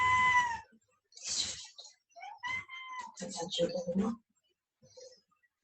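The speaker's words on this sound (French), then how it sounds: "voici le chat" A cat meowing in a quiet room, several separate drawn-out meows and cries with short gaps between them, close and clear with no talk over them.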